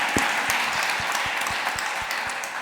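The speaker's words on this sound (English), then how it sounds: "please, we can clap for the panel, absolutely" An audience applauds a panel at a COP28 just energy transition discussion: steady, moderately loud clapping runs through the whole stretch, with soft, evenly spaced low thumps underneath.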